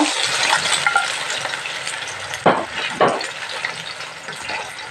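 Pork liver fries in hot cooking oil for an overloaded pancit canton, giving a loud, continuous close sizzle with a few sharper scraping stirs mixed in.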